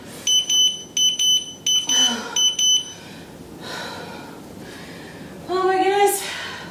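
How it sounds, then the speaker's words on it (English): Workout interval timer during a HIIT ab session, beeping in four quick paired bursts before falling silent, followed by breathy talk and a final brighter tone. "Okay, I'm gonna stop the timer."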